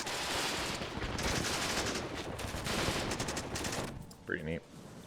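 Gunfire in the Cold War strategy game WARNO, SAS troops firing from a church steeple at FS Jaegers, heard as dense bursts of rapid automatic shots and volleys, followed by a short spoken remark over the battle noise.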